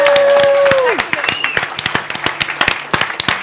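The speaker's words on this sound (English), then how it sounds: "So a warm applause to Aurora and Andrea." Audience applause breaks out for Aurora and Andrea at a Startup Grind talent event in Almedalen. Sharp, scattered claps build into a steady patter after a sustained voice fades out at the start.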